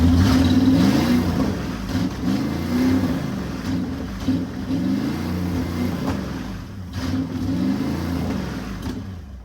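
A ground-run engine revved hard toward near full throttle, a loud, steady mid-pitched roar that swells and eases in repeated surges with no one talking.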